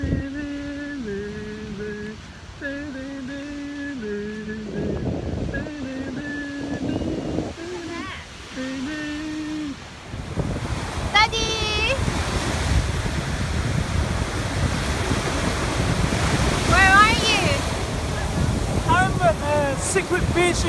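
Ocean surf rolls onto a secret beach on Oahu, Hawaii, a steady wash mixed with wind buffeting the microphone, with people talking over the first half.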